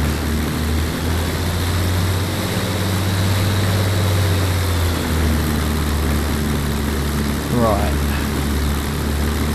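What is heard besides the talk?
Messerschmitt Bf 109 aircraft engine running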